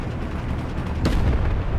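In War Thunder Mobile, an SU-152 tank destroyer battle carries a single heavy tank gun blast that booms sharply over a constant rumbling engine and battle backdrop, with a short thudding tail.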